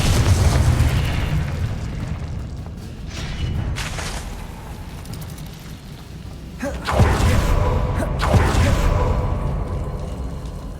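Confringo fire spell explosions in the Hogwarts Legacy video game, heavy booming blasts with a sharp burst near seven seconds and another near eight, loud and close, with no talk over them.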